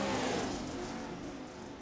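Pro 4 race cars at Fairbury in a racing video game roar together as they accelerate at the green flag: a dense, loud, continuous engine drone from the pack that slowly eases off.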